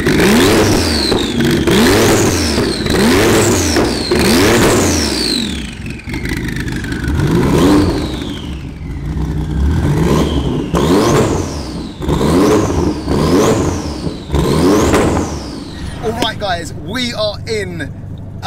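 A Porsche 993 911 Turbo S with a 4-liter engine and GT2 parts revs hard while driving, repeatedly climbing through the gears in loud rising sweeps and dropping between shifts, close and sustained throughout.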